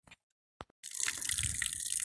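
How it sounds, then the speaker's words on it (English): Water from a flowing artesian well rushes out under pressure, a steady splashing gush that starts abruptly after a few faint knocks and keeps going strongly and nearby. "This is our flowing artesian well. The water just comes under pressure in the aquifer underground and it just comes right out."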